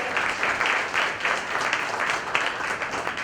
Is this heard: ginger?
no